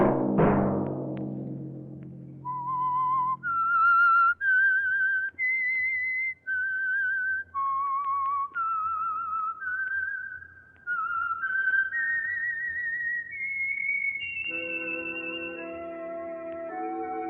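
Theme tune of The Whistler radio program, a lone whistled melody of held, sliding notes following a brief opening chord, clear and close, ending as orchestral backing swells in.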